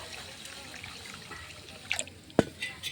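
Basmati rice is being rinsed in water, with faint trickling and a few soft drips and splashes, one sharper splash near the end, quiet and close with no talking.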